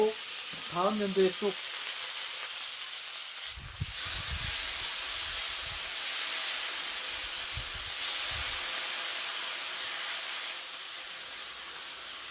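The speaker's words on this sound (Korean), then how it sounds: "잘 달궈진 불판을 비계 덩어리로 깨끗하게 닦아주고요. 본격적으로 굽기를 시작합니다." Meat goes onto a hot grill plate that was greased with a chunk of fat, inside a homemade log-built barbecue room. A bright, continuous sizzle hisses throughout with low knocks mid-way, and a brief voice sounds at the start.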